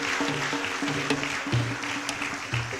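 A church congregation in Côte d'Ivoire claps steadily and fairly softly while keyboard notes and a bass line play underneath.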